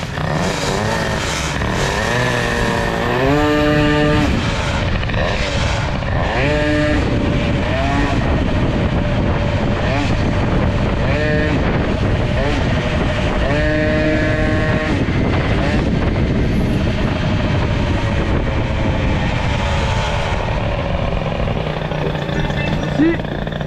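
Peugeot 103 moped with a Doppler Stock Boosted setup, 55 idle jet and W6 needle, idling unsteadily; the engine note hunts and surges in repeated bursts, loud and close, with talk throughout.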